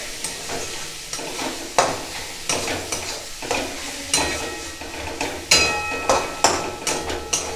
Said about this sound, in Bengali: এবার ভালো করে নাড়িয়ে নিচ্ছি।